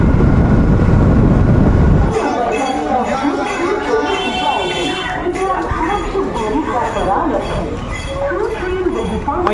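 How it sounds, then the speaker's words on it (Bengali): A loud, steady rumble of a train running at Baruipara railway station, with rattling clatter and a murmur of voices around. "চলে এসেছি আবার বারুইপাড়া রেলওয়ে স্টেশনে তো এখান থেকে আবার ট্রেন ধরে সোজা বেরিয়ে যাবো"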